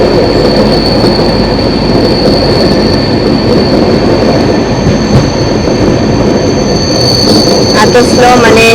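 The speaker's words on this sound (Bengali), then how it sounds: "এত স্লো, মানে সামনে কিছু একটা আছে, ওই জন্য ট্রেন স্লো হচ্ছে।" The Kanchankanya Express slows down, its wheels squealing in a sustained high metallic whine over heavy rumbling and clatter, loud and close, with faint talk in the background.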